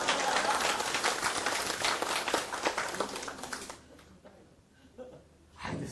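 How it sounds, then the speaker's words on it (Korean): A lecture hall audience applauds in a dense, sustained burst of clapping that thins out and fades, followed by a brief sound at the end. "박수 쳐주세요."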